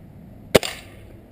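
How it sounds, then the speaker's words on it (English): Gamo Whisper air rifle with a silencer-type compensator fired at a can, a single sharp muted crack followed by a short faint rattle of the impact. "This is a Gamo Whisper. Both of these have silencer type things."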